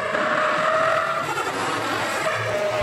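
A Toyota GR Yaris with 261 horsepower accelerates hard out of a corner on a track, its engine roaring loud and steady from inside the car with some tyre and road noise.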